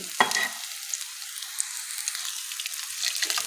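Koi fish frying and being stirred in a pan with mukunda lata vine, a steady soft sizzle throughout with a brief clink of the utensil at the start, no talking.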